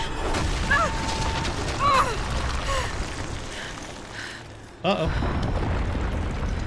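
A truck crashing down in a Rise of the Tomb Raider prison scene: rumbling crashes and a sharp heavy impact near the end, mixed with game noise and a man's brief spoken reaction.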